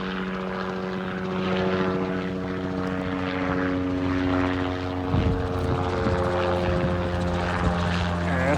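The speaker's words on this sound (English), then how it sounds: "That's the helicopter." A helicopter flies over a street scene in Charleston, Missouri, its steady rotor and engine drone holding throughout at fair strength, with a few bumps and noises near the middle.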